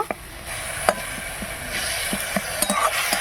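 Coriander leaf paste frying in mustard oil in a wok, with a steady soft sizzle and scattered light clinks and stirring taps over it.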